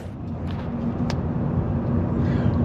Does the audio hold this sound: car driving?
yes